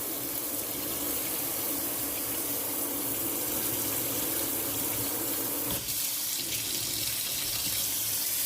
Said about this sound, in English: you rinse it with hot water